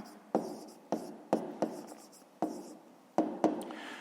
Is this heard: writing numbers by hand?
yes